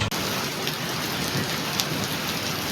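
The first monsoon rain pours down in a dense, steady patter, loud and close, during a family car outing. It is continuous, with no voices over it.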